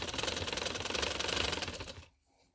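A sewing machine stitches lace onto a trouser in a fast, even mechanical rattle close by for about two seconds, then stops abruptly into silence.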